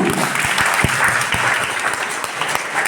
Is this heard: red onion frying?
no